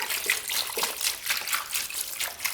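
Evapo-Rust rust remover is poured in a close, trickling stream that splashes and gurgles unevenly, with no voices heard.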